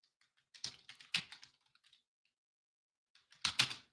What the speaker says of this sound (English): Had to remember what I was typing in